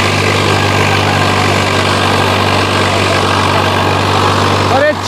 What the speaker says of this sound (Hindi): पूरा दम खम लगा रहा है ट्रैक्टर जी